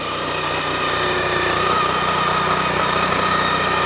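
A small 9.5 HP Japanese petrol engine runs steadily and loudly throughout, a continuous buzzing drone with no pauses.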